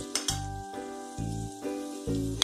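Cabbage with chopped garlic and green chili sizzles in a hot pan while a utensil stirs, with intermittent scraping and clinks against the pan over a steady frying hiss.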